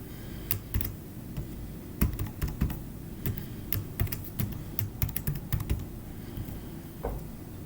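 Typing on a computer keyboard, irregular bursts of light clicking keystrokes, close and fairly quiet, with short pauses between runs of keys.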